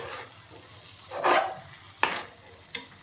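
Aubergine stirred in a pan over a low flame for a muttai katharikai thokku, with a soft continuous sizzle, a scraping sweep, and a couple of sharp spoon taps against the pan, close and alone.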